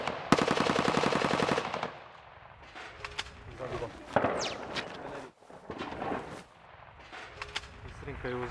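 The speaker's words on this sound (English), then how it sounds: "we're beginning to hear rebel soldiers beginning to fire back" Rebel fighters in war-torn Donetsk returning gunfire: a loud, close burst of rapid automatic fire, then scattered single shots and crackling reports echoing, with voices faintly heard in between.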